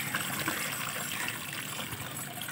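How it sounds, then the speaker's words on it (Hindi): Water drains quickly out of a bottle with a faint, continuous gushing trickle, heard close and alone. "ये देखो कैसे स्पीड में आ गया सारा पानी"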